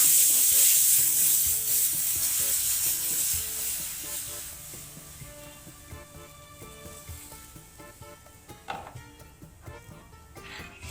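Tamarind pulp is stirred into cumin and hing in a pan for chutney, a steady hiss of sizzling that fades over the clip, with soft scraping and a few clinks of the spoon against the pan.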